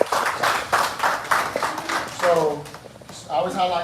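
Club members at an event clapping in a quick rhythmic burst that fades after a couple of seconds, with a voice talking over the end of it.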